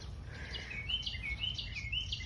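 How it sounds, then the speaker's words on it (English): Birds chirp in a mid-October zone 7a garden, light repeated tweets and calls scattered over a steady, soft outdoor background. "Birdies."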